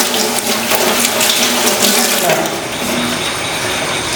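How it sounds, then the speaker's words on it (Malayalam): Taro leaves are washed under a running tap. Water gushes loud and steady over the leaves into a sink throughout, with faint clatter as they are handled. "വീട്ടിൽ വന്നിട്ട് എന്നാൽ നല്ല വൃത്തിക്ക് കഴുകി എടുക്കണം"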